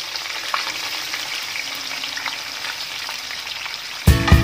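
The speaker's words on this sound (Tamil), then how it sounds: "அப்படியே ஆனியனை போட்டுருங்க." Onions frying in hot oil over a low flame for spicy Hyderabadi chicken, a soft steady close sizzle with a sudden louder clattering burst in the last half second.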